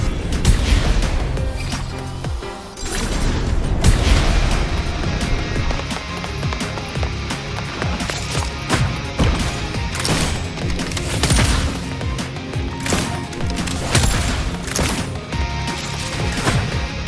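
Dense combat in Wuthering Waves, with repeated sharp impacts and blast-like hits packed closely together, one brief lull partway through, and continuous loud action throughout.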